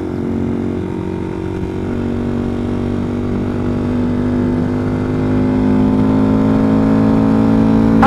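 Honda Grom motorcycle engine droning steadily while riding, loud and close, with the pitch climbing slowly toward the end as it picks up speed.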